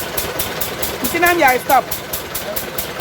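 A small engine drives a palm oil milling machine, giving a steady, rhythmic mechanical drone with pulsing beats throughout, close and fairly loud, while a voice speaks briefly over it.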